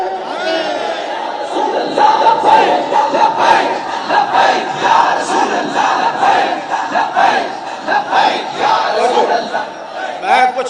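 Crowd at a protest march in Karachi chanting slogans in unison, loud and close, with rising and falling shouted waves over steady crowd noise for the whole stretch.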